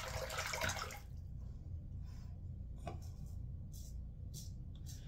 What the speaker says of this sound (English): just a little bit of water really wakes this soap up